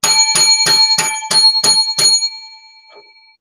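Seven quick rings of a small bicycle-style bell in a steady rhythm, bright and close, then the metallic tone fades out.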